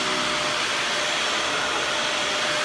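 A Dyson DC41 upright vacuum cleaner runs continuously, giving a loud, even, airy whine with no breaks and no voices.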